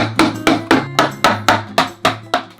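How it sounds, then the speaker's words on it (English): A hammer strikes wooden IKEA furniture during assembly eight times in an even rhythm, sharp loud knocks close by with short decays between blows. "You had to bring out the hammer for this one."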